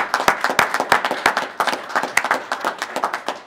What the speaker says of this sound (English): A great round of applause for these great young students and teachers